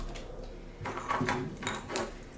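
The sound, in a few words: drawer of tea storage items opening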